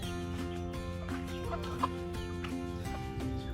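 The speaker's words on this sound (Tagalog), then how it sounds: "May chickens." Farm chickens clucking in a rural yard, a steady layer of soft, close clucks and murmurs running through the whole stretch with one brief sharper call partway through.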